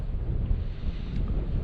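Steady low wind rumble buffeting the microphone outdoors by low water at Twin Valley, loud and continuous with a gusty roar and no voices.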